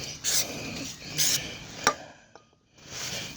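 A cloth rubs over new Repco brake pads for a Ford Falcon BA/BF in two or three short, faint rasping swipes, with a small knock between them and quiet gaps.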